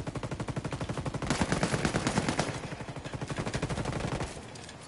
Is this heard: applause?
no